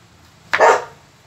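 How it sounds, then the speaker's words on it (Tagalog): A single sharp dog bark, close and loud, standing out against a quiet room. "Nag-iingay yung Kobe namin."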